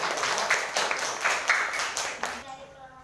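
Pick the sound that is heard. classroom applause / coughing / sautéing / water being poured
classroom applause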